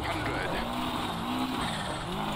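A rally car in Dirt Rally 2.0 skidding with locked wheels, a dense engine roar with rising and falling tire scrub and squeal, loud and close with a voice speaking over it.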